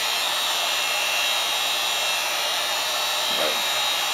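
A heat gun on its low setting blows steadily onto EVA foam with a constant airy whine and hiss. The sound is continuous and close, and a faint voice briefly comes through under it.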